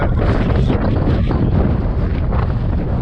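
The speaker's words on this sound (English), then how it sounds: "now the wind's getting pretty fierce" Fierce gusts of wind buffet the microphone at a dirt motocross track, making a loud, continuous roar without talk.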